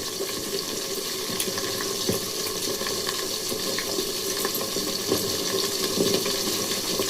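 Peeled ginger is rinsed under a running kitchen tap, a steady continuous splash of water into a sink with no talking.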